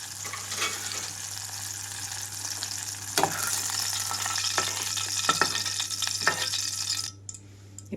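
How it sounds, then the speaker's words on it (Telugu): Red chillies sizzle and fry steadily in a hot pan on a stove, with a continuous crackling hiss, a few clicks of stirring and a low hum, before the frying drops away near the end. "ఇక్కడ చూడండి, 2 నిమిషాల తర్వాత పండు మిరపకాయలన్నీ వేగిపోయినాయి"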